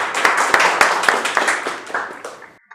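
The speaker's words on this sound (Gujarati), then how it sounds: "ડોક્ટર નરેશ બુટાણી માટે ફરી એકવાર જોરદાર" Audience applause for a speaker at a talk on reading, a dense burst of many hands clapping close by, fading out over about two and a half seconds.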